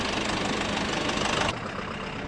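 Tractor engine running at a steady idle, a close, even mechanical drone that drops noticeably quieter partway through and keeps going.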